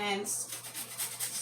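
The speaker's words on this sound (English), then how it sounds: "scrape the rest of the carrot and scrape." A carrot being scraped with a series of short, rhythmic rasping strokes up close, starting just after a brief spoken word.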